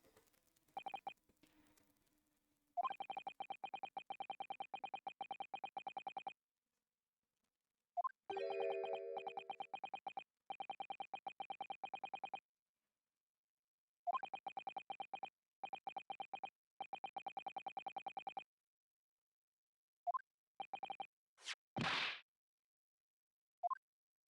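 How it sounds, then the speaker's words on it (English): Bursts of electronic Morse-style beeping from The Great Ace Attorney, steady tonal pulses in repeated runs separated by silences, ending with a short whooshing sweep; no talking over it. "like that Morse code sound that's coming out."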